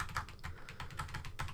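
Keys on a Saga 1 Emperor membrane computer keyboard click in a quick, uneven run of close, soft taps with no voices.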